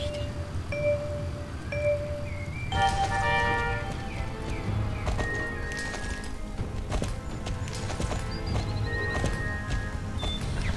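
Horse hooves clip-clopping and a horse neighing in the Star Stable video game during a race, steady rhythmic hoofbeats with game effects and chimes layered over them at moderate level.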